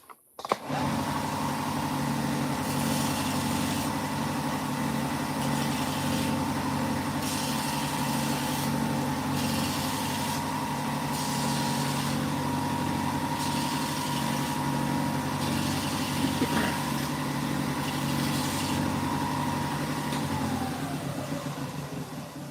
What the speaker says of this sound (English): I'm going to take this back to the sander and take the flashing off of this one.